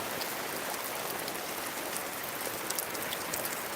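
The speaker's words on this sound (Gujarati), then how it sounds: "જુઓ વરસાદ ચાલુ થઈ ગયો છે" Steady rain falls over a village, a dense, even hiss of drops on surfaces continuing without pause at moderate level, with no voices.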